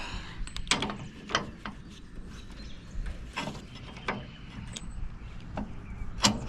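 A socket wrench works on a hydraulic tube fitting of a Hiab 335K crane, giving scattered sharp metallic clicks and knocks at irregular intervals, close and moderately loud over a low background hum.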